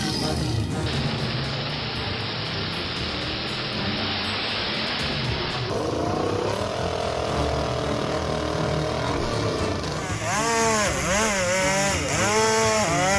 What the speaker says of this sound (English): The powerful chainsaw roars, its engine of dozens of horsepower shaking the forest frame.